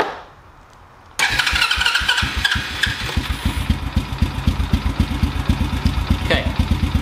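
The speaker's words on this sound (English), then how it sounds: "This bike should be able to idle." A motorcycle engine fires up after near silence and settles into a rough, loping idle after a carburetor idle adjustment, with uneven throbbing pulses throughout. A brief voice is heard near the start.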